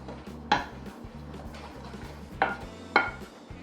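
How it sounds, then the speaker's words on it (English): Cake batter being stirred in a mixing bowl, heard as three distinct knocks of a utensil against the bowl rim over a soft, steady scraping and low background hum, with no talking. "you give that a good stir, because you want to do that to make sure all of the ingredients mix together well"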